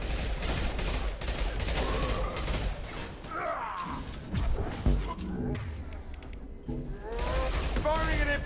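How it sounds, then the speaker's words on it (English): Impact shot power firing in Mass Effect 2 on Insanity difficulty: loud, dense bursts of gunfire and crashing impacts that keep going steadily, with voices talking over the combat. "Firing an impact shot."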